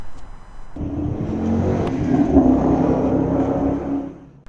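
A 2019 Dodge Challenger engine revs with a loud, steady, close rumble that swells in the middle and fades near the end, with no talking over it.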